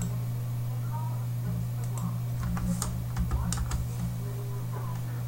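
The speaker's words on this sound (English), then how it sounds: "you can press Control V on your keyboard" A computer keyboard is typed on in a quick burst of several crisp key clicks partway through, over a steady low electrical hum.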